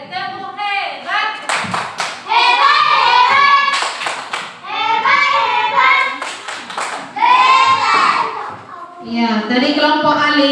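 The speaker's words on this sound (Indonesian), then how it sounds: "Oke, tepuk hebat." Third-grade primary school pupils in an Indonesian classroom perform a rhythmic patterned clap chant, their hand claps sounding in bursts mixed with children's chanting voices throughout.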